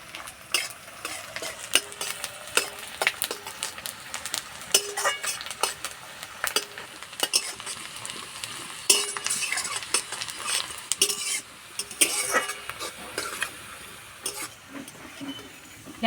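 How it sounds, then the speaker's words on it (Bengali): Onions frying in a pan until reddish brown for egg pulao, a continuous close sizzle broken by repeated sharp metal spatula clinks and stirring scrapes. "পেঁয়াজটা লাল লাল করে ভেজে নিতে হবে"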